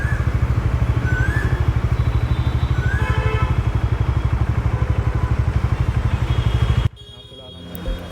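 A Bajaj Dominar 400 motorcycle engine runs at a fast, even idle up close, its steady pulsing thump going on for several seconds before cutting off abruptly, with faint noise afterward.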